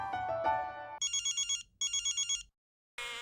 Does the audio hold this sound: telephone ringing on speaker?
yes